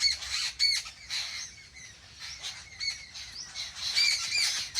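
Sparrows chirp and call in bright, busy bursts on a morning outdoors, several birds overlapping in rapid irregular twitters at moderate distance.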